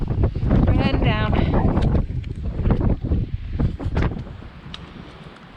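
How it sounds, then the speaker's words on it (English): Strong gusts of roughly 30–35 mph buffet the microphone on the Jackson-Webster Trail in a mountain wilderness, a loud rushing roar that rises and falls while someone talks over it. "Winds are probably 30, 35 miles an hour, maybe."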